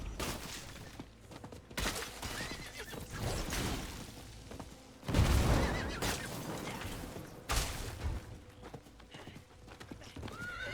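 A horse in Diablo 4 neighs and whinnies over steady clip-clopping hooves, loud and close, with several surges in intensity across about ten seconds.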